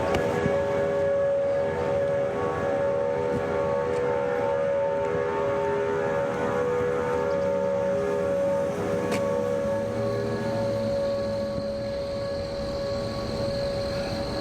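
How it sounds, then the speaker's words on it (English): Tornado warning sirens wail across the Memphis, Tennessee metro, steady distant tones echoing and overlapping with slow rising and falling pitch, heard alone without talk. "we did have the tornado sirens go off earlier this evening"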